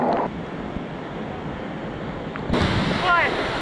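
Rushing water from Kawasan Falls in a jungle canyon on Cebu roars as a broad, steady wash heard up close, with a brief surge of louder splashing near the end.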